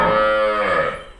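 A Rathi Sahiwal cow on a dairy farm gives a single loud, close, drawn-out moo that fades away over about a second.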